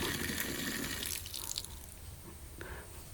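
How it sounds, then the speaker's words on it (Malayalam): Water runs steadily from a tap with good pressure, a soft continuous splashing with faint drips, fairly quiet and without voices. "ടാപ്പിലൊക്കെ അത്യാവശ്യം നല്ല ഫോഴ്സ് ഉണ്ട് വെള്ളത്തിന്"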